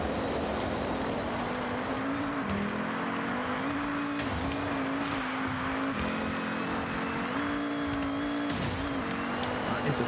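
A 1989 Volkswagen Rallye Golf races offroad in Forza Horizon, its engine droning at a steady high pitch with small rev shifts and gear changes, plus occasional bursts of gravel and tire noise, continuous and loud.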